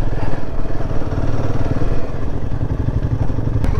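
A motorcycle engine drones steadily on the mountain road from Kaza to Batal, a loud, rough, continuous rumble with wind and road noise and no speech.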